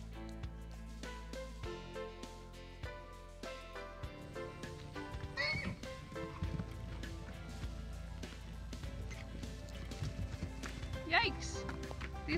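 A mare gives a couple of sharp squealing whinnies at an orphan foal trying to nurse in a pasture, amid shuffling hooves and background noise, with people talking quietly underneath.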